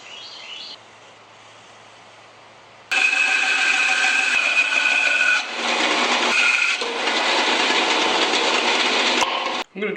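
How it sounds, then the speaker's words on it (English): An angle grinder carves a block of wood into a lotus leaf, a loud steady abrasive grinding that begins after a few quiet seconds, with brief dips as the tool lifts off the workpiece. "I'm going to try to carve this with the angle grinder."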